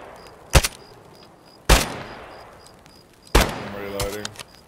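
Suppressed Glock fire with a drum magazine in the video game Escape from Tarkov, three sharp muffled bursts spaced about a second apart, fairly quiet, with a faint mechanical clatter after the last one.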